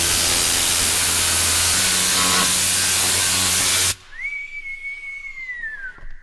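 A loud, hissing burst of spray cleaner on a filthy Kenworth truck lasts about four seconds, then stops sharply, leaving a quieter background with a sustained whistling tone.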